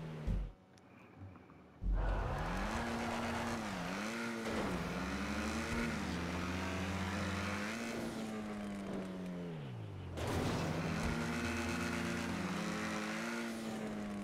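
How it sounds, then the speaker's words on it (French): A video game vehicle straining as its wheels spin and skid, an engine drone rising and falling in pitch for long stretches, loud and near, with no talking. "le véhicule il patine, il met 50 ans à repartir"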